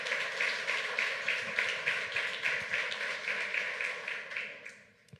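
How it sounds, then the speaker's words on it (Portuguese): Congregation applauding in a church service, a steady wash of many hands clapping with faint rhythmic pulses throughout, fading out at the end. "aplaudam ao Senhor"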